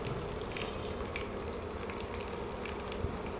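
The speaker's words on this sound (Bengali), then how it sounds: "তেলটা ভালো করে একটু গরম হয়ে গেছে তারপর আমি পেঁয়াজটা দিয়ে দিলাম" Chopped onion hits hot oil in a pan while beef curry with potatoes is being cooked. It gives a steady, crackling sizzle with small pops scattered through it, and no voices.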